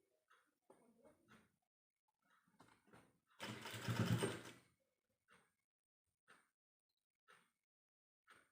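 A sewing machine stitches a churidar neck in one brief, soft whirring burst of about a second, surrounded by faint scattered handling clicks in a quiet room.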